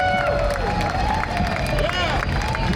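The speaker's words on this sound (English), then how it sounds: "please give them another round of applause" A parade crowd applauds and cheers for a high school chorus after the national anthem at a Vietnam Veterans Day parade. Steady clapping and crowd noise continue throughout, with a voice talking over it.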